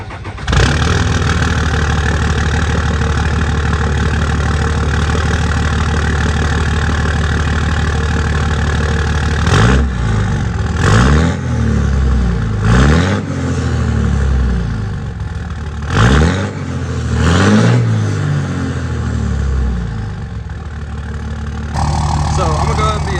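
A Cummins diesel engine runs steadily at close range, its loud idle hum repeatedly swelling with revs and turbo whine before settling back, with no talk over it.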